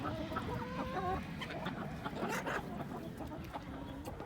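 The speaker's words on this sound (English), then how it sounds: "But he's my friendliest rooster, I guess." Chickens cluck in a farmyard flock with a rooster among them, a busy overlapping chorus of soft clucks and short calls at moderate distance, steady throughout.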